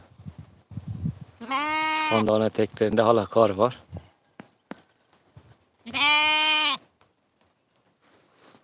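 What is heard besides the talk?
sheep and lambs bleating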